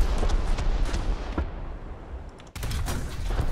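A KV-2 tank's heavy cannon fires a track shot in War Thunder, one deep booming blast with a rolling rumble and debris over ongoing battle noise, a sharp second impact following near the end.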